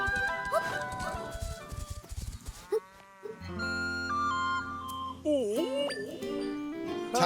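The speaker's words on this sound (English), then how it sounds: "Top-down Zelda with a horse." Hooves of a horse clip-clop at a gallop in The Legend of Zelda: Echoes of Wisdom. A neigh, game music and chiming effects play over them, loud and close, and a player's voice comes in briefly.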